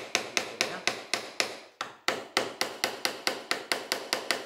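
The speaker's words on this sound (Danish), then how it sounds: "Jeg kan jo lige klaske lidt med hammeren, så jeg ved, at de er kommet ned." A hammer knocks wooden blocks fitted with hidden dowels together, a steady run of about sixteen sharp, close taps with a brief pause midway, no talking.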